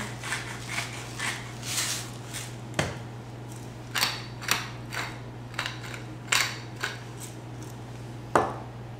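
Salt and pepper shaken over flattened chicken breast for cordon bleu, a series of short, close crackling shakes and taps spaced irregularly over a steady low hum, with no talking.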